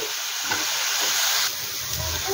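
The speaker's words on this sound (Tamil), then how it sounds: "ஸோ இது வந்து லைட்டாக கொஞ்சம் வதங்கட்டும்." Ingredients for raita sauté in a hot pan, giving a steady close sizzle and hiss that runs throughout with slight stirring swells and no talking.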